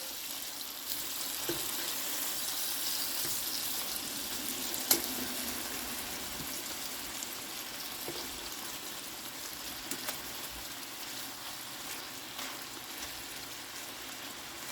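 Chops sear in butter in a pan with a soft, continuous sizzle and low crackle, quiet and close, broken by a few faint clicks and knocks.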